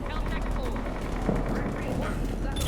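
Gunfire in the video game Mass Effect 3: dense, continuous bursts of shots and impacts with a rumbling combat din, a voice talking over the firefight throughout.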